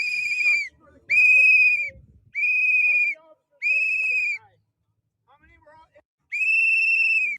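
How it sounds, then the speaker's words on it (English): Shrill whistle blown right beside a woman's ear as a crowd gag at a church event staged as a zombie invasion, five long loud blasts of about a second each with short gaps, plus a couple of faint short chirps. "They stand behind a woman and creepily blow a whistle in her ear while she tries to not be bothered by it."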